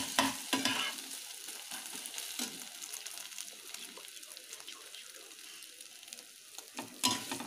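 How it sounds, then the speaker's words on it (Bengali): Egg frying in a pan before being mixed into egg veg chowmein, giving a soft, steady sizzle with a few louder scraping stirs near the start and end, close and fairly quiet, no talking. "ডিমটা আমরা ভালো করে ফ্রাই করে নেব"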